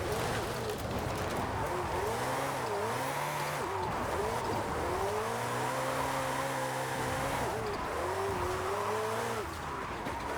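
Ferrari driven downhill in Forza Horizon 5, a high-revving engine whining up and down through gear changes, steady and loud throughout with tire scrub underneath.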